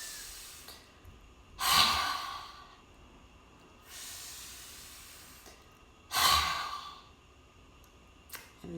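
Two rounds of lion's breath, each a soft nasal inhale followed by a loud, forceful mouth exhale that tapers off, close-miked, with steady pauses between rounds and no talking.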